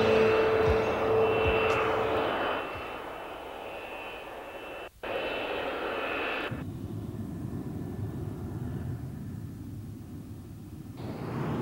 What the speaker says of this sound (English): several F-15s go on a standard NATO exercise